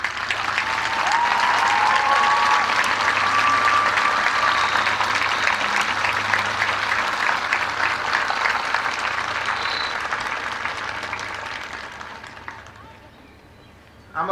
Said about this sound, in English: Join me in giving them a warm round of applause.